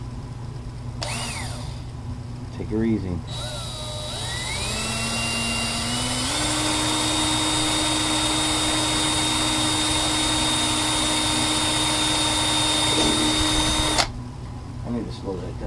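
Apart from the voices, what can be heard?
power drill drilling a hole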